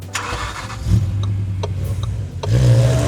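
An Audi Q7 55TFSI starts and pulls away, its engine catching with a burst, then settling into a steady mid-pitched drone before rising again as the car accelerates, loud and close with no talking.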